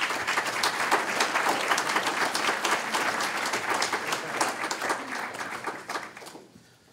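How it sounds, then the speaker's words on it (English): An audience applauds a police chief at a university event, dense steady clapping filling the room for about six seconds before fading out quickly at the end. "let's give a round of applause to Chief Jorge Cisneros."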